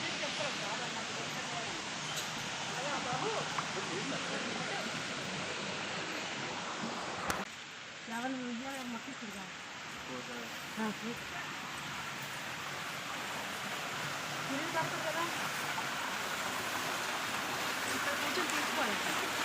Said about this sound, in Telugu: వాటర్ ఫాల్స్ చూడండి అక్కడ నుంచి వస్తున్నాయి